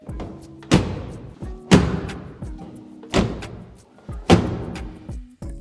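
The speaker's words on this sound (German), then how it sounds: "Das merkt man jedes Mal beim Schließen der Türen." Doors of a Mercedes W123 shut four times in a row, each a deep, solid thud with a short ringing decay, evenly spaced about a second apart and heard up close.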